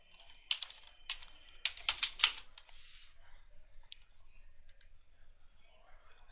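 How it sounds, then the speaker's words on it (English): Keys clatter on a computer keyboard as a web address is typed, a quick burst of clicks up close followed by sparser taps and a quiet background. "Step 3, you type in your URL."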